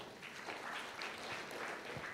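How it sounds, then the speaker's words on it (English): Audience applause at an AI conference held in a hotel in Trichy: a brief, steady burst of many hands clapping together, filling the room evenly for about two seconds with no voices over it. "Can I have a big clap, so sir?"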